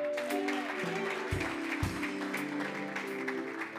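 A church congregation cheers and applauds for Jesus, a continuous wash of clapping and voices throughout with a couple of low thumps.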